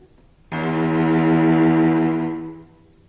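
A single sustained cello note starts with a sharp, accented bow attack off the string, then rings warmly and steadily before fading out, played alone and close.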